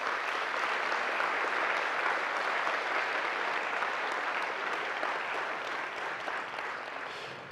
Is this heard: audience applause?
yes